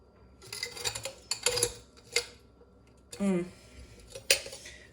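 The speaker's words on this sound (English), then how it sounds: "I'll take a spoon and try to wiggle this out" A metal spoon scrapes and knocks against a container, prying out clumps of homemade borax crystals; a few close, clattering bursts and one longer grinding scrape, with a brief voice in between.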